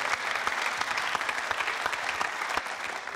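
An audience applauds a Paralympic cyclist, a road silver and track bronze medallist, with steady, dense clapping that fills the room and holds evenly from start to finish, without any voices.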